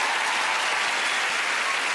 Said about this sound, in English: Please give both our families a massive round of applause